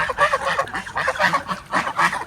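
A flock of ducks and geese gives repeated nasal honks and quacks in quick overlapping bursts, fairly close and moderately loud.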